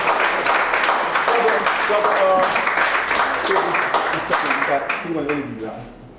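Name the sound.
audience applause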